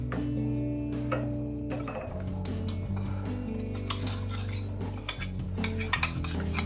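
Rice being stirred into milk in a pan for mango phirni, with steady scraping and clinking of a spoon against the metal pan, a close, continuous rhythm with a few sharper clinks near the end.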